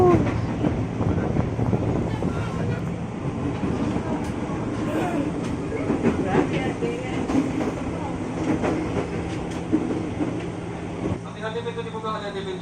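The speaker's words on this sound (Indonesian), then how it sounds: "kereta kita melaju cepat." A long twelve-car KRL commuter train speeds along the Depok to Jatinegara line, heard from inside as a steady rumble with rhythmic wheel clatter. Voices sound faintly in the background, and a brief tonal signal sounds near the end.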